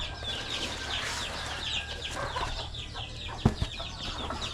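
Chickens cluck in a farmyard alongside other ambient birdsong, a busy continuous chatter of poultry sounds with a couple of sharp thumps near the end.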